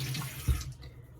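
Water runs from a tap over a sleeve being washed at a sink: a short, soft, steady splash with a brief thump partway through, no voices.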